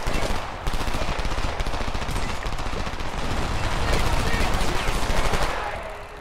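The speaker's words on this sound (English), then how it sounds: "More gunfire. I hear it." Sustained gunfire from the Homefront video game, dense rapid bursts of automatic fire filling the whole stretch at steady loudness, with faint voices mixed in.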